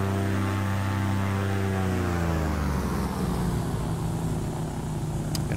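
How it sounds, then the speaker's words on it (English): Engine drone of an Alabeo Titan twin-engine airplane in the Orbx Samoa flight simulator, a loud steady propeller hum with harmonic tones that slowly shift in pitch, continuous and close, with no talking. "this is the Alabeo Titan, which is a lovely airplane"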